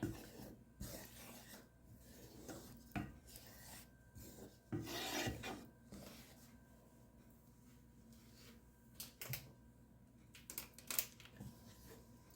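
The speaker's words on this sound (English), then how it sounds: "And then I stir everything all together." A utensil scrapes and stirs egg stew with paprika powder in a pot, giving faint, irregular rasping strokes with quiet pauses between them.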